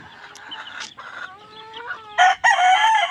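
Chickens cluck and a rooster crows on a poultry farm, close and loud, with short clucks followed by a long, bright crow near the end and no speech.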